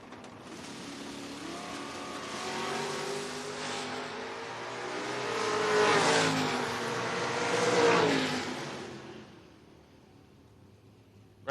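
Drag racing cars, an 83 Camaro and a 2002 Camaro, roar off the line at a Door Wars event, engine noise swelling to a loud peak as they pass, then fading as they pull away down the track.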